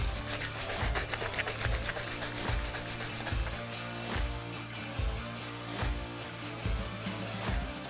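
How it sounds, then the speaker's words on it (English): A forged hunting knife blade is sanded with 60 through 220 grit paper in rapid, rhythmic rubbing strokes, close and steady, the strokes spreading out and softening toward the end. "I'm gonna go from 60 grit to 120 to 220 grit to finish up these."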